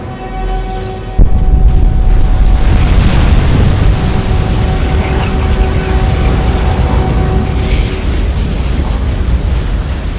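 A dragon's fire-breath shout in Skyrim erupts suddenly into a loud, sustained roaring whoosh that fills the scene for several seconds.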